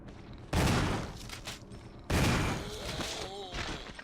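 Gunfire rings out in Resident Evil 2 Remake, two loud bursts of shots with ringing tails and some game effects between them, no talk heard.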